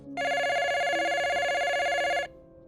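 A telephone rings in one long, loud, sustained electronic ring lasting about two seconds, heard alone with no talk over it, then stops.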